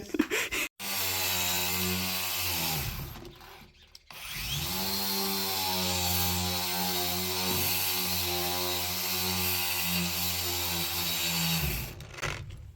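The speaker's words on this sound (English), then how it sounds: "that was kind of the only grinding you needed to do because it just removes the paint that already wants to go" A surface renovator grinds old paint off a surface for a spring project, a loud, steady motor whine with a gritty rasp that cuts out briefly partway through, then runs on again before stopping near the end.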